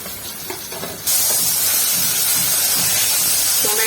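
Loud, steady hiss of tomatoes and ginger hitting hot oil in a frying pan while cooking matar paneer; a quieter kitchen murmur gives way to a sudden, continuous sizzle that fills the rest.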